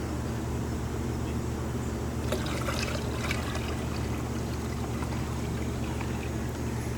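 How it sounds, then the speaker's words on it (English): Water pours steadily from a hose into a swimming pool pump basket, a constant close rushing trickle with a low hum from the pool equipment beneath it. "we're going to go ahead and fill that with water"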